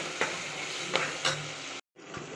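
Onions, cinnamon, cloves and green chilies sauté in a pan, a steady sizzle broken by three distinct scraping stirs, with a brief dropout near the end.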